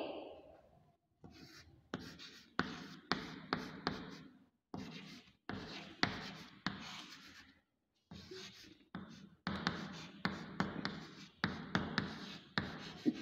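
Students writing in notebooks during a maths class, bursts of pen or pencil scratching in short rhythmic strokes separated by brief pauses, close and clear, no voices.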